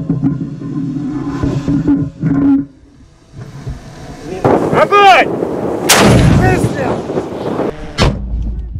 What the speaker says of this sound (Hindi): रूस ने कुछ खतरनाक हमले भी किए हैं यूक्रेन की तरफ, खतरनाक तोपें दागी हैं।